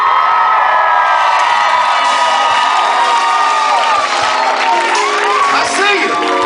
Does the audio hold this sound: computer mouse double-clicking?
no